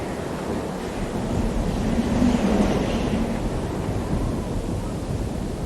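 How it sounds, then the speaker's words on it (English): Wind gusting through the Bloodborne video game world, a steady broadband rush that swells slightly around the middle and keeps blowing evenly throughout, with no voices. "Wow, it got really windy."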